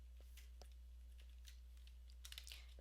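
Quiet computer keyboard typing in short irregular bursts of soft key clicks, a steady low hum underneath and no talking.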